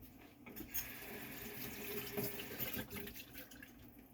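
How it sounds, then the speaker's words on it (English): Kitchen tap water running into a jar to rinse out thick sauce, a continuous close splashing and gurgling stream, fairly faint and alone without talk. "A little bit to rinse the jar."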